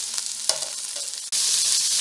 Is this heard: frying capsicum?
yes